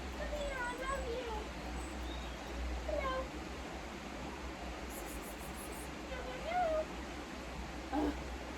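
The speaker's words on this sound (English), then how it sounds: "Oh, little kitty." A small kitty gives a few faint, thin meows, scattered and brief, over a steady low background hum, with occasional human voice nearby.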